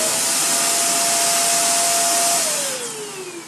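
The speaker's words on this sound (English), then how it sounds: "vacuum this up with great precision and accuracy" A Dirt Devil 360° Reach Pro bagless stick vacuum running with a loud, steady whooshing roar and a constant whine whose pitch drops near the end as the motor winds down.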